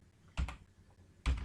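Keystrokes on a computer keyboard while Java code is typed, coming in two short clustered bursts separated by a quiet pause, fairly soft and close.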